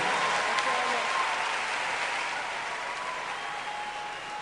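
Steady, moderately loud audience applause fills a hall at a television award ceremony, an even wash of clapping with no pauses from start to finish.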